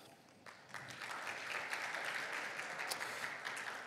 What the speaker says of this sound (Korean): 토론회에 임해 주신 패널 분들께 다시 한번 큰 박수 부탁드리겠습니다